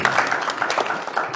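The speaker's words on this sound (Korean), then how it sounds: "박수 한번 주십시오" An audience at a forum session applauds, a dense burst of clapping heard close and fairly loud, with no speech over it.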